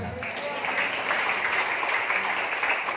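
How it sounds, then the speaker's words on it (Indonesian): Congregation clapping during a church worship service, a broad even wash of applause at moderate volume with no pauses. "Mana tepuk tangannya?"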